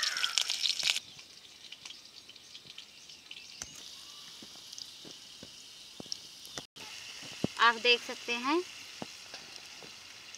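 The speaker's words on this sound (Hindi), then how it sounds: "हरे मिर्च को इसमें डाल दे रहे हैं तेल में।" Green chillies hit hot oil for a pumpkin curry tempering, giving a soft steady sizzle with a few faint clicks and stirring sounds, and a brief bit of speech near the end.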